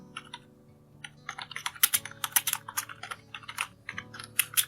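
Fingers type text on a computer keyboard, a close, quick run of clacking keystrokes in uneven bursts, with a faint steady hum behind them.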